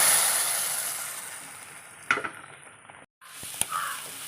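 Hot tempering of mustard seeds, fenugreek, dried red chilli and curry leaves poured into ash gourd sambar gives a steady loud sizzle that fades slowly, broken by a couple of sharp pan clinks and a brief silence.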